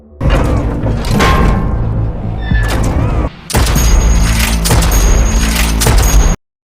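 Loud booming gunfire from a rifle shooting a robot in a dramatic action scene, two dense bursts separated by a brief pause, then sudden silence.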